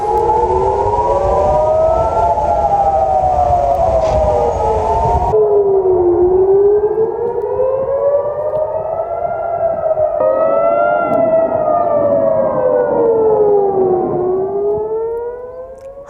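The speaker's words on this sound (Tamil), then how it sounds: "இஸ்ரேலின் ஜெருசலேமை நோக்கி ஈரான் ஏவுகணைகளை வீசியதால் அலறிய சைரன்" Civil defense siren in Jerusalem during an Iranian missile attack, a loud wailing tone rising and falling slowly over and over, sustained alone with steady rumbling background noise early on.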